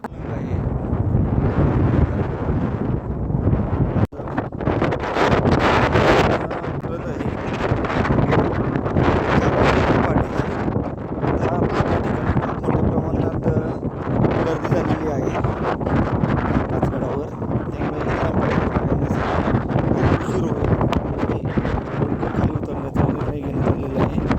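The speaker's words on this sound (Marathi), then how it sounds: "येथे वारं खूप आहे त्यामुळून वाऱ्याचा आवाज खूप येत आहे" Strong wind battering the microphone on top of a hill fort near Igatpuri, Nashik, a loud continuous roaring buffet that surges and dips throughout with no break.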